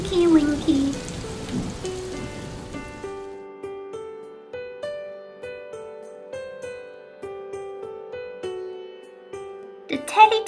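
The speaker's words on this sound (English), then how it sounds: "The cloud rains on Tinky Winky." Cartoon rain falls on Tinky Winky in a Teletubbies bedtime story: a soft patter of rain for the first few seconds, then giving way to a gentle tinkling melody of plucked, bell-like notes.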